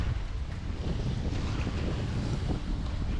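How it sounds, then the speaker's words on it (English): Strong wind buffets a boat out on a reservoir while waves slap against the hull, a loud, steady roar of gusts and water with microphone wind noise throughout and no talking. "The wind picked up massively, which would make getting rods out almost impossible."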